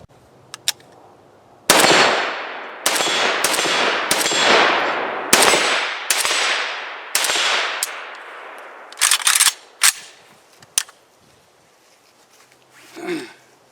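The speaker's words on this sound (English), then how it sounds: "Alright guys, I've put a few more rounds through this." A Palmetto State Armory GF3 AK rifle fires a string of rounds at steel targets outdoors, about nine loud sharp reports spaced roughly a second apart, followed by a few quicker shots and a short pause.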